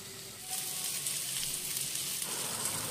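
Prawns koliwada in a crispy coating fry on a hot tawa, a steady, dense sizzle that swells after a moment and holds evenly, close and moderately loud, with no voices.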